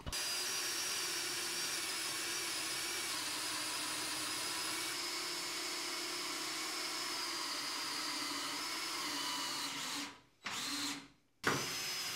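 A power drill whines steadily for about ten seconds drilling holes through a steel frame rail of a Jeep CJ5, then stops and starts in two short bursts near the end.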